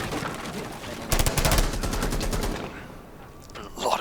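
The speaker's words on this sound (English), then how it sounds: "A lot of bullets from 2 different people expended on that camera" Automatic gunfire in Rainbow Six on Xbox as two players shoot at a camera, a dense burst of rapid rounds lasting about a second and a half, then quieter game ambience with a commentator talking throughout.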